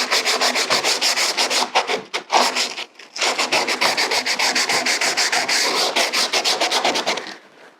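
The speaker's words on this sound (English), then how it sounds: "Synthetic sanding pads aren't quite as coarse sandpaper." A synthetic sanding pad scuff-sands a furniture finish in fast back-and-forth strokes, a loud, close, rhythmic scratchy rubbing with a short pause near the middle before the strokes resume and then fade out.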